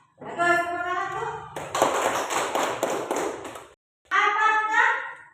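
A classroom full of children breaks into a couple of seconds of brisk, close group clapping, with a teacher and kids speaking just before and right after it.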